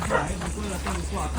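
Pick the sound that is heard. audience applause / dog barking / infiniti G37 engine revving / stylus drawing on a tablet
dog barking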